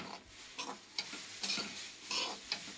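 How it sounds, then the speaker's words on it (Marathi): Semolina roasting in oil in a kadhai, a spoon scraping and stirring in quick repeated strokes over a soft sizzle, close and fairly quiet. "हे बघा रवा भाजून घ्यायला लागले मी"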